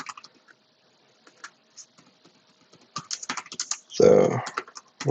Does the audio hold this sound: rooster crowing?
no